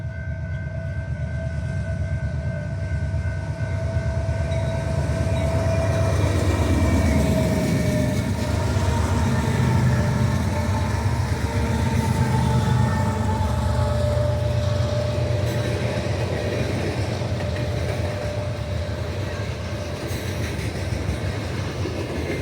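A Ferrosur locomotive pulls a train steadily past trackside, a continuous loud rumble of engine and rolling wheels with faint clickety-clack and a sustained tonal hum throughout, no voices.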